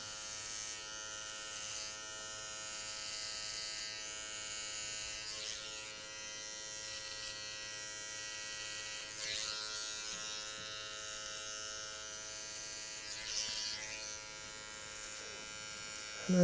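A sharp electric hair clipper buzzes steadily and softly while shaving a low fade line at a barbershop, running almost continuously with slight variations in tone as it moves over the skin.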